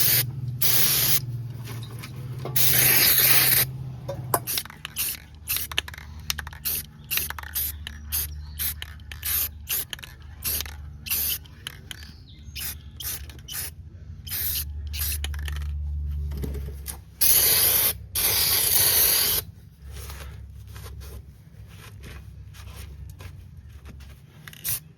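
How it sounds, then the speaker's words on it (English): Black spray paint hisses from an aerosol can onto a wire-brushed metal part, in repeated bursts of varying length separated by pauses, with occasional can rattles and clicks, close and loud. "throw some black paint on it, call it a day"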